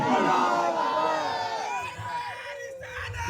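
A large crowd at a madrasa children's religious gathering roars back a loud, sustained chanted response to the Naara-e-Takbeer slogan, voices rising together and tapering off.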